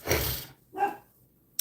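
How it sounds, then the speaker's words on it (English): A pet dog barks twice indoors, two sharp, loud, close woofs about three-quarters of a second apart, followed by a brief thump. "be prepared for barking"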